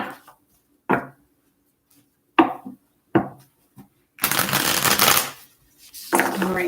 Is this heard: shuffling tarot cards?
yes